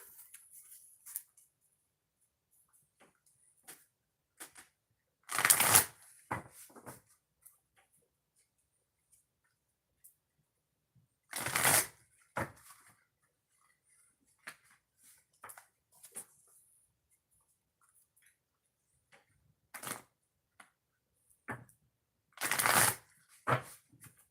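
Three bursts of oracle cards being shuffled, each a brisk riffling rustle, spaced several seconds apart, with light taps and handling noises between them in a quiet room.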